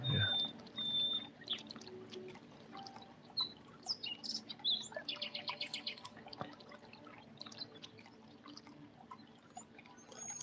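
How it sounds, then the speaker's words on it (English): Faint, high chirps and tweets from birds flying around a room come in scattered bursts, with a quick run of rapid chirping midway over a quiet background hum. "Love the bird sounds in the background."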